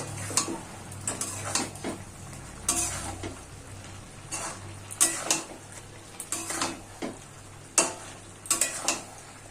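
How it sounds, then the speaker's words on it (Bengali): Stirring fish and bottle gourd curry in a pan: a spoon scrapes and knocks against the pan in repeated strokes, with soft bubbling and sizzling underneath. "আমি এখন একটু নেড়ে দেব"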